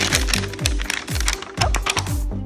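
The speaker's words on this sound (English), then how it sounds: "Zipper." An LOL doll toy package is unzipped, giving a run of quick rasping, clicking pulls in an uneven rhythm, close and fairly loud, with no talk.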